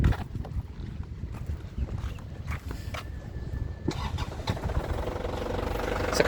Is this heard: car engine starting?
yes